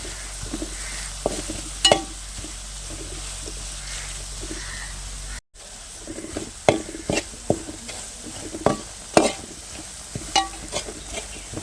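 Spice powders stirred and heated in a pan for Kerala-style mango pickle: a steady soft sizzle with repeated scraping clicks of a spoon against the pan, briefly cut off near the middle.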